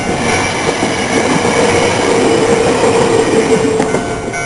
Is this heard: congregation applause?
no